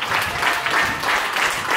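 A crowd at a scooter competition claps steadily for a rider's final trick, a dense, continuous patter of many hands with a slightly pulsing rhythm and no talking.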